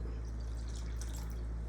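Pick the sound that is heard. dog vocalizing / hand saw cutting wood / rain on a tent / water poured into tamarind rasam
water poured into tamarind rasam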